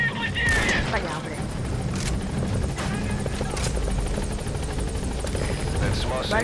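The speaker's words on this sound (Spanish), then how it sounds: "Vale, viene el helicóptero." An allied helicopter arrives in Metal Gear Solid V, its rotor a steady loud drone throughout, overlaid by bursts of game gunfire and other combat effects.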